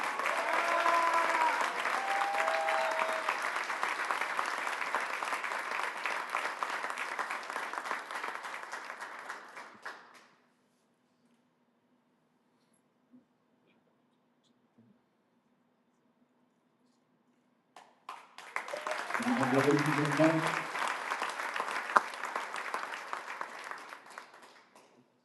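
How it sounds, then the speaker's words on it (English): Crowd applause at a Nashville SC Unified team event: two long bursts of dense clapping, the first about ten seconds, then near silence, then a second swelling round with some cheering voices. "please give a huge round of applause for Ahmed."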